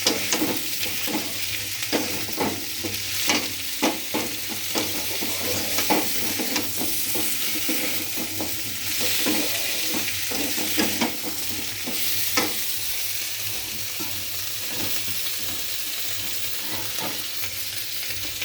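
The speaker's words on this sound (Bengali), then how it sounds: "তো বন্ধুরা দেখো দিয়ে আমি একটু নাড়াচাড়া করে নিচ্ছি।" Fish curry of sole and koi fish with potato, green banana and greens sizzles in a pan while a spatula stirs it, scraping and tapping repeatedly over a constant frying hiss.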